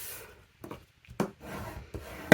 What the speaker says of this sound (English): I'm going to press it down right at that score line